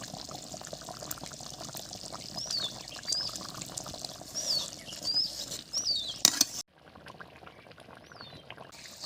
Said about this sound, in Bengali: সবজিটা হয়ে গেছে, এখন ঢেলে নেব।